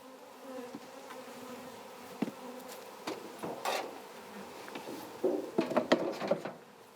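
Honeybees buzz faintly around a hive in Corsica as a beekeeper works the colony, with soft wooden knocks and scrapes of frames and boxes rising near the end.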